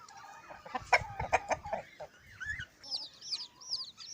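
Week-old chicks cluck and cheep in a quick, uneven run of close calls, with higher peeping chirps rising toward the end.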